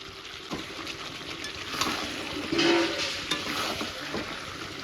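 Fried potatoes and garlic are added to meat cooking in a pot, bringing a moderate, fairly quiet sizzle with soft stirring knocks and a short swell of louder frying midway.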